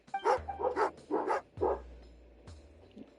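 A dog in Genshin Impact barks and yips in a quick run of short, close barks, then a couple of softer isolated yips follow after a pause.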